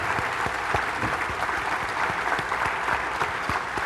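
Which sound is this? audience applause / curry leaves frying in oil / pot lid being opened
audience applause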